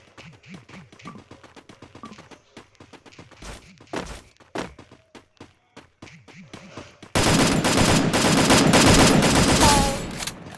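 Gunfire from the Free Fire battle-royale mobile game: scattered sharp shots through the first seven seconds, then a dense, loud sustained burst of rapid automatic fire for about three seconds before tapering off.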